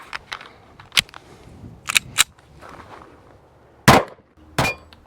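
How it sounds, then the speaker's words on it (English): Gunshots from a Dan Wesson DWX race pistol fired at a range: several sharp, loud cracks spaced irregularly over a few seconds, with the strongest reports near the end and quiet gaps between them. "Shoot some more and find out."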